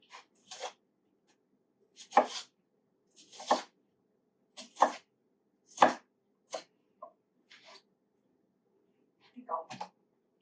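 A knife chops through an onion on a cutting board in a home kitchen, giving about eight separate crisp cutting strokes spaced a second or so apart, close and fairly quiet, with no talk over them.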